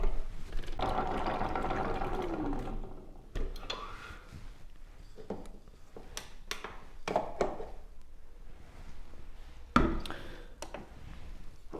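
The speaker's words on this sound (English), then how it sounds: "Now I just want to mix up the wet ingredients." Wet ingredients for sourdough cardamom buns being mixed by hand, a steady busy scraping and sloshing with scattered sharp taps and clinks against the bowl, close and moderately loud, without talk.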